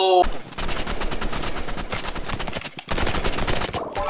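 Gunfire in the Roblox Rivals video game comes as rapid, dense bursts of shots that run almost continuously, with a short break partway through.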